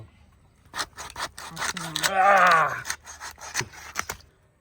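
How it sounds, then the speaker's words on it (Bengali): A knife cuts through the head of a large freshwater rohu fish in a series of rasping, grinding strokes, one longer drawn-out cut in the middle, close and fairly loud. "আগে কি মাছখান থেকে ফাটাবো নাকি মাথা কাটবো? আগে মাথার কাছে কাটো"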